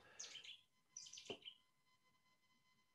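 Cetti's warbler singing in two short, loud bursts of rich, rapid chirping notes close by, separated by a brief pause, with no talk.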